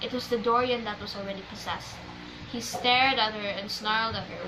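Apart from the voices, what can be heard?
No everyday noises stand out.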